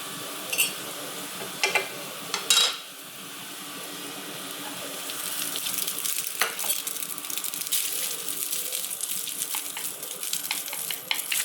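Fried rice with garlic and onion stirring in a hot pan, with a steady close sizzle that builds midway, broken early by a few sharp utensil scrapes and clanks.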